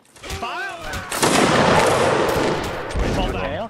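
Musket volley fire in the Napoleonic Wars game Mount & Blade, a dense, loud burst of crackling shots rolling together into a sustained roar, with voices talking before and after.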